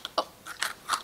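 Crunchy freeze-dried Skittles are bitten and chewed close up, giving five or six sharp, airy crunches in an uneven rhythm against a quiet background.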